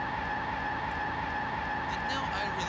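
A car accelerates in a Unity car physics game, producing a continuous engine drone with tire noise at steady loudness, with a voice speaking over it.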